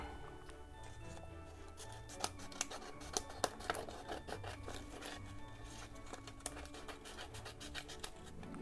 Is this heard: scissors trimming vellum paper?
yes